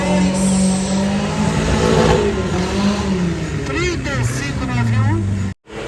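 A Jeep Willys revs and accelerates hard in an off-road race, its engine rising and falling under a loud announcer talking over a PA, with crowd ambience behind.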